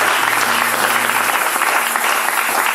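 A church congregation applauding loudly and steadily, dense close clapping throughout with a faint sustained tone underneath in the first half.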